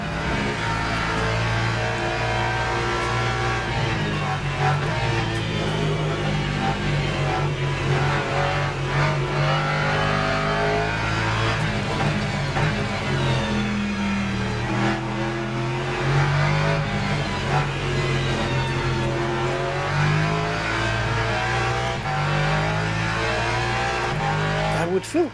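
A race car in the Le Mans Ultimate sim racing game, its engine droning continuously with rising and falling revs and occasional tire squeal, loud and unbroken throughout.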